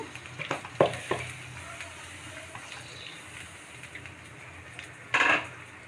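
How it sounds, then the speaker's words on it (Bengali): Onion and garlic dropped into hot oil in a wok, heard as a few sharp clatters and splashes at the start over a steady low sizzle, then one more loud burst of frying near the end; no voices. "তো আমি এখানে সম্পূর্ণ পেঁয়াজ এবং রসুনগুলো দিয়ে দিচ্ছি"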